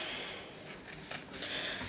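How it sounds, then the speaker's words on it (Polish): Scissors snip and cut through plastic packaging while a fingerboard parts package is opened, giving a few crisp cutting clicks over rustling and crinkling close by. "mam nożyczki. Otwórzmy tak."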